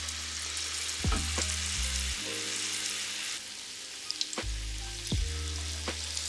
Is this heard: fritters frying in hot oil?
yes